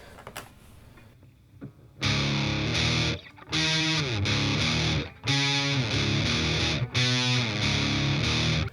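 Distorted electric guitar slowly plays the intro of a song as sustained chords in four separate bursts, with short pauses between them and no talking.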